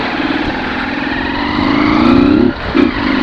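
A Honda CG motorcycle engine running without its air filter, a loud close-up throaty idle that rises into a steady rev, cuts briefly, then blips again before settling.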